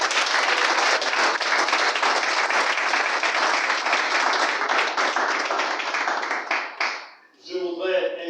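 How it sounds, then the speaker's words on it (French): A ceremony audience applauds with steady, full clapping for several seconds that fades out, followed by a speaker's voice. "sous vos acclamations."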